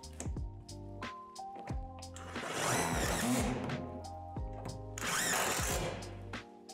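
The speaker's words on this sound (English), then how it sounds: "Secure this end first with the self-tapping screws." A power driver sends self-tapping screws into the gable support of a Lifetime 10 x 8 ft outdoor storage shed, with two loud whirring bursts between clicks and handling knocks.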